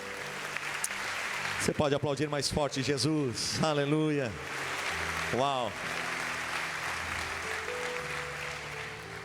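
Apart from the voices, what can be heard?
congregation applauding at church congress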